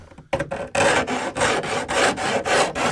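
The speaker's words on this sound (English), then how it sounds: "file off any sharp edges" A hand file rasps along the sharp cut edges of a metal Sprinter van roof panel in a series of quick, close back-and-forth strokes.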